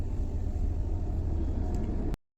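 Low, steady rumble of a taxi car driving along a road in India, a continuous engine and road drone heard from inside the cabin that cuts off abruptly near the end.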